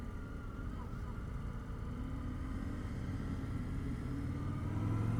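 Indian Scout Sixty Classic motorcycle, a 2025 model, with its engine droning steadily and rising slightly as the rider short-shifts into second gear, a continuous near rumble under wind noise.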